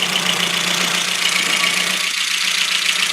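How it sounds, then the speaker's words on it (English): A Ford Focus MK1 RS engine idling with a misfire after a cold start, giving a steady, loud, close mechanical drone with hissy top end and a slightly uneven beat, no voices. "Still misfiring."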